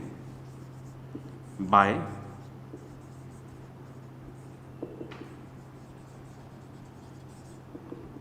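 Marker strokes on a board during a class 10 math lecture on linear equations, with one short burst of squeaky writing partway through and faint scratches later, all under a man's close, steady speech.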